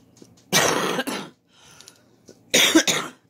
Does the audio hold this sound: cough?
yes